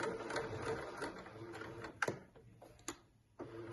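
A sewing machine runs in short close bursts stitching a second row on a dress, its rapid mechanical whir broken by a couple of sharp clicks and brief pauses.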